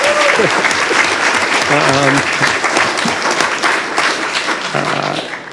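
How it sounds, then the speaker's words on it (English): A county board of commissioners meeting audience applauds steadily and loudly throughout, with voices and cheers mixed into the clapping, fading slightly toward the end. "So please give her a round of applause for her design again."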